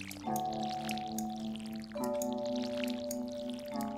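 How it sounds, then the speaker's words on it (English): Watering crops with a watering can in the Stardew Valley video game: three soft, watery, slightly slimy tonal splash cues, each sustained and evenly spaced, heard alone with no talk. "It's kind of a strange noise for the water. It sounds kind of slimy."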